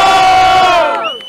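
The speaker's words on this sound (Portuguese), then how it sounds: "Barulho Johnny, Botafogo" A crowd at a rap battle, the 2017 state final in Botafogo, roars and shouts loudly for a rapper, one sustained wall of yelling that fades out near the end.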